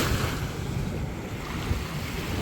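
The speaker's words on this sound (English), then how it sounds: "Getting a little bit close to the waterfall." A waterfall rushes in a steady, loud broadband roar, buffeted by wind noise on the microphone, with no voices.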